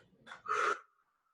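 A single forceful purging exhale during qigong practice, a short sharp breath blown out hard and close, preceded by a quick intake and trailing into silence.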